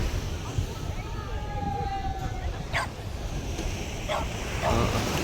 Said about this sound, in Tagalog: Kakaiba yung alon dito